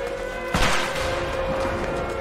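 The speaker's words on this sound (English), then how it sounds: "The fuckers are shooting to kill!" Enemy gunfire in the video game A Way Out, with one loud shot that bursts out and then a rapid stretch of fusillade-like shots rattling on underneath a steady background tone.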